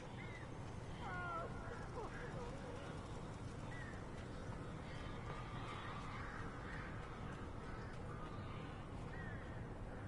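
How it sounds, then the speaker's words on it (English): Crows caw in the Alan Wake video game, several harsh calls over a steady loud roar of wind and ambient noise, with faint voices in the background. "Save Barry from the birds."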